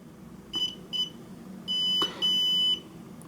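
An Arduino laser tripwire alarm sounds a piezo-style tone: two short beeps, then two longer sustained beeps of about half a second each, clear and close with a faint hum underneath.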